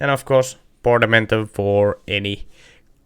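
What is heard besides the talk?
No everyday noise stands out behind the speech.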